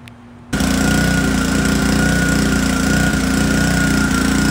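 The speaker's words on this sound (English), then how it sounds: "Engine started on first pull." A vertical pressure washer's engine fires up after a brief quiet moment and settles into a loud, steady running drone with a continuous mechanical rattle, heard alone without talk.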